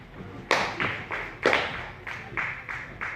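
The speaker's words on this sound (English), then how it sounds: "can I applaud Madam Esther once again?" A small group claps for Madam Esther in a few uneven bursts of hand claps, rhythmic and close, with pauses between rounds and no talking over them.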